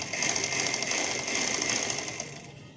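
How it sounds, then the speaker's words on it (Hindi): A sewing machine running a long continuous line of stitching on fabric, a steady close buzzing whir that holds for a couple of seconds before stopping. "फ़ोल्ड करके यहाँ पे एक सिलाई दे देते हैं। देखिए, इस तरह से एक लंबी लाइन सिलाई करते हैं।"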